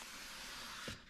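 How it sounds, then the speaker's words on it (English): A spray bottle of glass cleaner mists onto a Ford Explorer front window during tinting, a steady close hiss that runs for about a second, then ends with a short thump. "So I'll just spray my glass cleaner on."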